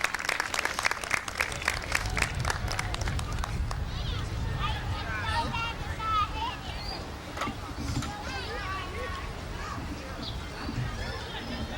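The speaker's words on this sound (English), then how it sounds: "Could we all bring him up with a round of applause," Applause from a crowd at a community family-day gathering, strongest at the start and then thinning into scattered claps under a murmur of voices and background chatter.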